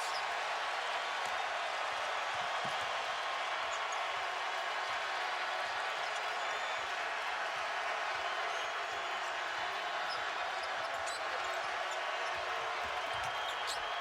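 A basketball arena crowd at the Big 12 Tournament, Iowa State vs Oklahoma State, roars loudly and continuously after a three-pointer, with a commentator's voice faint beneath the din.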